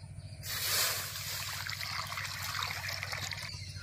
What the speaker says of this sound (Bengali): এবার এই জলটা ফেলে দিচ্ছি।